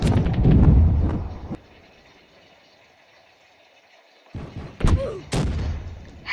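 Rapid bursts of gunfire from the Roblox shooter Recoil, loud and dense at the start, then a quiet gap before more sharp shots and impacts return near the end.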